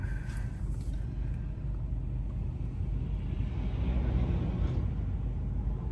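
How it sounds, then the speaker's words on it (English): A car approaches and passes a parked 2000 Mercedes-Benz ML320 with its air conditioning running, a steady low rumble of traffic filling the scene and swelling slightly before fading. "Got a car coming."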